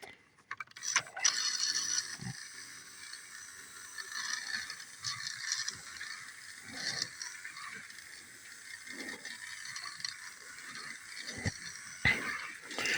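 Model train moved back and forth on a powered track section, giving irregular clicking, ratcheting mechanical bursts and brief whirs separated by quiet gaps, close and fairly faint, with no talking.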